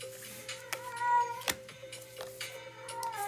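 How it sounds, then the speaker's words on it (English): A cat meows loudly and repeatedly, drawn-out wailing calls in an indoor setting with short sharp knocks between them and no speech. "Y'all hear that cat going crazy?"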